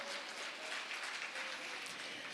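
Warm audience applause greeting a judge introduced at a geopark interpretation contest, a dense, steady clapping from a crowd, fairly distant and sustained for the whole moment.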